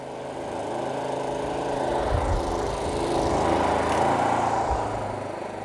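Two Generac GP3000i inverter generators linked with a parallel kit idle together, their engine drone swelling up and easing back down over several seconds, moderately close and free of talk.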